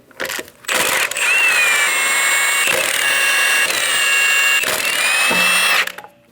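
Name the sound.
removing lug nuts with a 22mm socket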